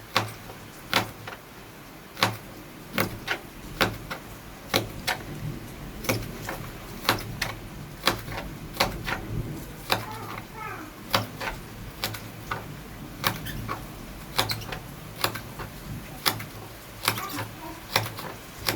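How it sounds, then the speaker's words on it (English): A not-very-sharp kitchen knife chops spring onions on a board in steady, crisp knocks, repeating fairly evenly through a long run of cutting with a faint background hum. "Now the spring onion. I'm going to cut all of this like this. I chop them all."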